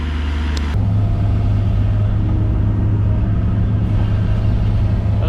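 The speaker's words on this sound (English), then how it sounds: "The nice thing about the skid steer is the Takeuchi's kind of rough, so it pounds the ground" A Takeuchi skid steer backfilling a large septic system and pounding the ground, a loud, steady low engine rumble that jumps up in power after a brief quieter start and then holds, with no talking.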